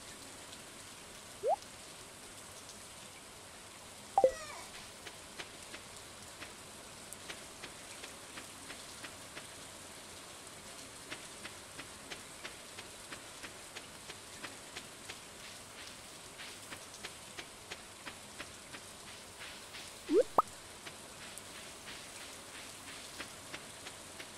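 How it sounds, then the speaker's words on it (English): Steady rain patters throughout in the video game Stardew Valley, with a few brief louder clicks and chirps standing out over the constant hiss. "It's raining, let's go fishing."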